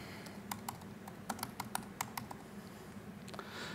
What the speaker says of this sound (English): And type something.